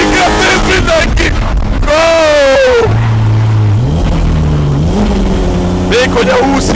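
A car engine revs hard through rising and falling pitch sweeps while the vehicle drifts sideways, loud and close, with excited shouting over it.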